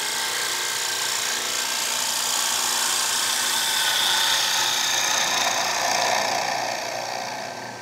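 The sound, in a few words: wood lathe trimming the top of a square bowl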